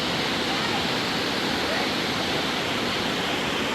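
Water pours steadily down a waterfall in a park with a children's playground and woodland, producing a loud, continuous, even rushing roar that fills the clip without any break.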